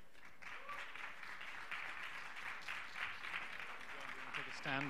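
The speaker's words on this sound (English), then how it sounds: "And to take the applause." An audience applauds steadily and fairly faintly for several seconds at a talk on the UN Decade on Ecosystem Restoration, with a voice briefly heard near the end.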